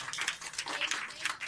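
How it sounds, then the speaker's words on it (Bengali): An audience applauding at a Rabindranath Tagore tribute stage event, Rabipokshe Kabipronam 2025, with a brief, faint, dense patter of many hands clapping heard from a distance. "আমার মনে হয় হাততালিটা আর একটু জোরে হওয়া দরকার।"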